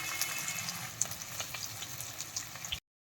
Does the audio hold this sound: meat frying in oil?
yes